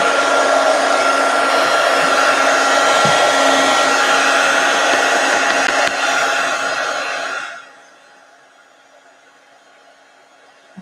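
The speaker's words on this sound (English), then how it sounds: "I should have said heat gun alert." A heat gun blows a loud, steady rush of hot air during an art session, running continuously for about seven seconds before cutting off into near silence.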